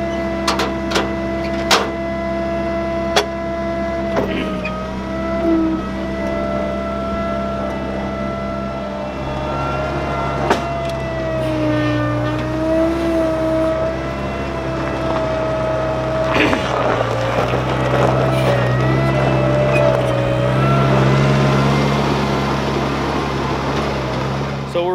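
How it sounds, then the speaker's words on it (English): A Bobcat skid steer drives and works nearby, its steady diesel engine droning throughout with shifting whines as it moves. People talk over the machine at times. "Just drive your bobcat down there, and we'll show you."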